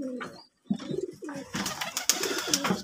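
Pigeons cooing in a loft after a deworming course, some of them vomiting: several soft, throaty coos in repeated phrases, close and clear, with a short silence near the start.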